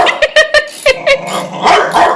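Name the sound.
dog barking when the bucket is kicked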